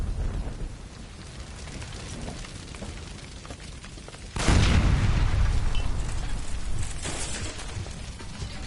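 A gas line exploding in the video game L.A. Noire: steady crackling and rumble, then one sudden heavy boom that gives way to a roaring, sustained rush.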